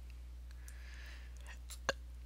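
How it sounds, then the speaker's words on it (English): One small, abrupt belch from a person pops out quietly near the end, a single short hiccup-like burst over a steady low room hum. "Oh, pardon me, my little belches."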